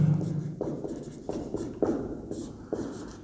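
Chalk or marker writing on a board during a maths lesson, a series of short scratchy strokes in bursts with brief pauses, close and fairly clear, no speech.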